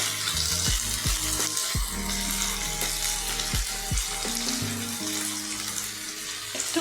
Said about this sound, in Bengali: তেলে এই লতিটা দিয়ে দিলাম